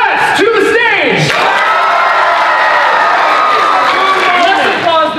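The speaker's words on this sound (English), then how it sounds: "Less applause than for Nicole." At a youth improv showcase, a crowd bursts into loud cheering, whooping and applause that stays dense and energetic throughout, close and enveloping.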